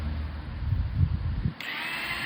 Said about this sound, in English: now we've drilled a hole in the back cap